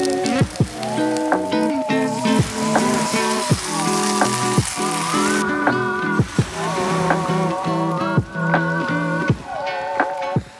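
Sausage and shakshuka cooking in a pan at a beach spot, with a steady frying sizzle partly covered by louder, tonal background music with occasional sharp knocks. Nobody talks.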